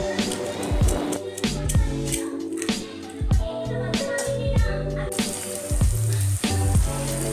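Onions sautéing in a pan for Chettinad fish curry, a steady sizzle broken by repeated soft stirring scrapes and spoon knocks at close range, with no one speaking.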